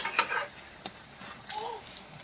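Eggplant chops frying in hot oil give a soft, steady sizzle, with light scraping and clinking of a utensil stirring in the pan.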